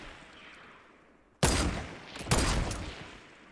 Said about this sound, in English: I'm in a sniper battle.